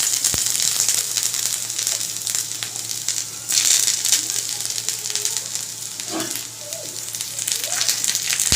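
Fenugreek seeds, a bay leaf and ginger paste sizzle in hot oil with a loud, continuous frying hiss, punctuated by a few crackles and stirring sounds; no talking.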